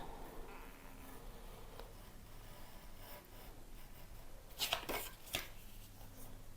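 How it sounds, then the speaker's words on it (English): A craft knife slices card on a cutting board: faint, quiet scratchy strokes in a hushed room, with a couple of short, sharper cuts near the end. "I'm just going to cut this out using my craft knife"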